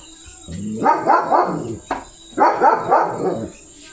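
A German Shepherd barks loudly and close by in two separate bursts. Each burst is a rapid run of several deep barks, with a thin chirp of insects going on steadily in the background.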